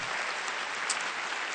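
Applause from a church congregation during a sermon, a dense steady wash of many hands clapping that fills the short stretch without a break.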